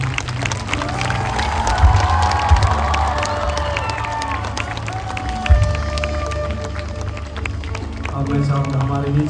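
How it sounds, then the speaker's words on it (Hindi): Audience clapping at a stage ceremony where guests are honoured with tribal attire; a steady, broad wash of applause with crowd noise and a few louder bursts, lasting throughout. "आइए हम लोग जोरदार ताली बजाते हैं।"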